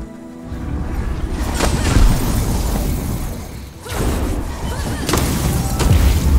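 In the video game V Rising, bomb blasts go off during a shard raid as several heavy booming bursts with rumbling low end over a continuous noisy battle background.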